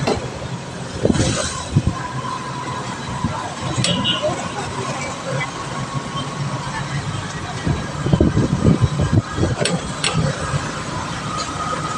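Rumbling train noise at a busy station beneath a skyway, steady and moderately loud, with people talking throughout and brief squeals and clanks rising near the end.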